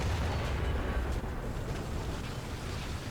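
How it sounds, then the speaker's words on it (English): A 150 mm gun on a Brummbär German tank destroyer in War Thunder booms, a heavy low rumble that fades into a sustained roar, with the battlefield's noisy drone continuing throughout. "so that was 3 shots with a 150 millimeter to kill that M4"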